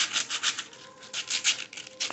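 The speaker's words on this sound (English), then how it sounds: "I want you to sand it." Sandpaper rubs in quick repeated strokes over round wooden circles cut for giant outdoor candy canes, close and fairly soft.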